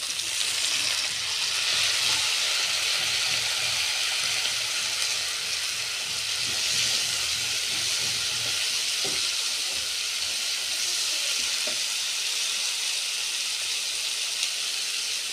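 Radish pieces sizzling in a pan, a steady broad hiss of frying that holds evenly throughout, close up, with a few faint clinks.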